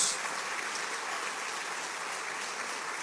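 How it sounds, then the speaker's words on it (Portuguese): Audience applause at a graduation ceremony of a Christian college, a steady dense wash of clapping held at an even level throughout, fairly faint and with no voices over it. "Você pode aplaudir ao Senhor nessa noite?"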